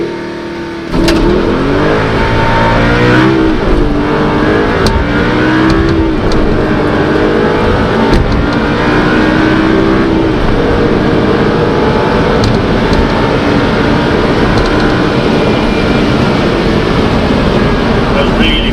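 An Audi R8 V8 FSI with R-tronic transmission in sport mode revs and accelerates hard, its engine note climbing loudly and steadily from near silence and holding strong for the rest of the run.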